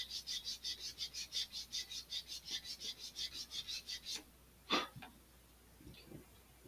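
A sanding block works the surface of an Estes Black Brant XII model rocket in a steady run of close, rhythmic rasping strokes, about sixteen passes, then stops, followed by a few faint scattered rubs.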